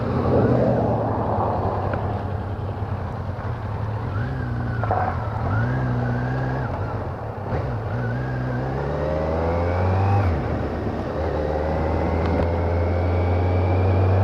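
Kawasaki Z900 engine under way, a loud close exhaust drone rising and falling through gear changes with several revving climbs in pitch, continuous for the whole stretch with wind noise beneath.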